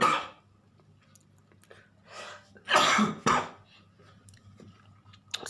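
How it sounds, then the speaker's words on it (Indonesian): Two loud, close coughs in quick succession, preceded by a faint throat sound and followed by a short breathy noise, with quiet gaps between. "batuk 2 kali"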